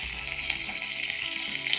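Onions dropped into hot oil for a curry leaf prawn fry give a steady, close sizzle with faint crackles, no voices over it.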